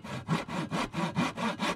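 A hand saw cuts through wood for a homemade bird feeder, eight steady back-and-forth strokes in an even rhythm, close and clear with no talking.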